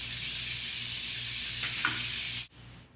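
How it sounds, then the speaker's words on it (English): Oyster mushrooms sautéing in butter with garlic and onion, a bright continuous hiss with a brief stir partway through, cutting off abruptly near the end. "The mushrooms I've been sauteing about 4 minutes or so"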